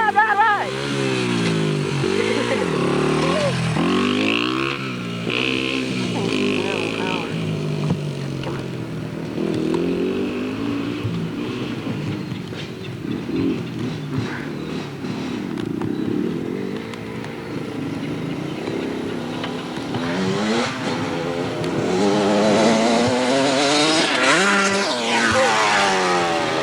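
Dirt bikes ridden by a group of friends in 1987, engines revving and whining with rising and falling pitch throughout, loud and close, with excited shouting over the motors.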